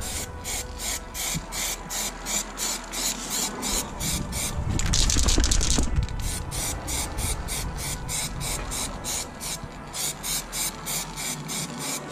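Glitter spray paint can being shaken in rapid regular rattling bursts, with a longer hiss of spraying in the middle, close and fairly loud; the paint is going onto parts of a first-generation Mazda MX-5 Miata.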